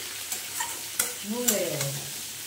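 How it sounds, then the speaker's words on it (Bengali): Pumpkin pieces stirred in a hot pan with turmeric, a short close burst of sizzling with a few sharp spatula scrapes and clacks. "তো কুমড়োগুলো দিয়ে ভালো করে কষে নিই। এর মধ্যে দিয়ে দিচ্ছি হলুদ।"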